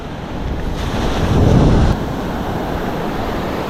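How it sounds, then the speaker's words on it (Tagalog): Ocean waves break along the shore during a fishing outing, rising to a roaring swell and then settling back. Strong wind buffets the microphone the whole time, and no one speaks. "dito na tayo sa may basagan ng alon"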